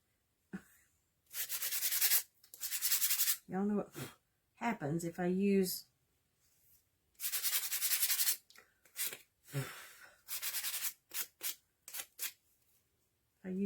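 Bursts of rough, scratchy sanding strokes with a sanding block on a painted mason jar alternate with a person talking, each rasping pass loud and close, with pauses between.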